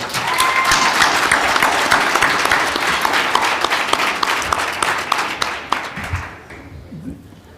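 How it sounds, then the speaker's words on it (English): Loud, dense applause from a pitch competition audience honouring the volunteers, with sharp individual claps standing out, tapering off toward the end into a quieter room with a faint voice. "please join me in giving a round of applause for all those who volunteered their time"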